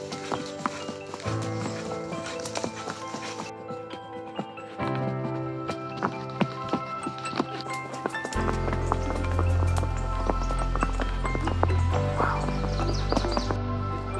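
Horses carry riders up a steep mountain trail in Mexico's monarch butterfly region, hooves clip-clopping in a steady uneven rhythm close by, with creaking tack and a low rumble beneath.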